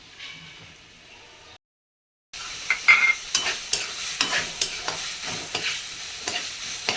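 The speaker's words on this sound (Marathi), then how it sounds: "तर हे मी आता भाजते कांदा जो भाजला आहे" Onion roasts and is stirred in a pan: after a faint hiss and a brief silent gap, a steady sizzle carries rhythmic spatula scrapes and taps, close and clear, with no voices.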